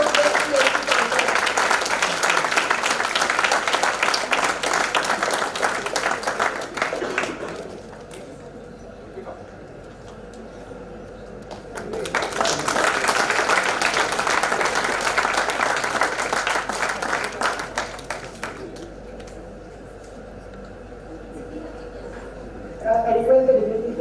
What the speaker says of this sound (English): A big round of applause for the winner of Best PhD contest.